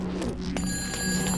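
A phone rings in Shadow of the Damned with a brief, bright electronic trill, loud and close, over a low ambient game backdrop.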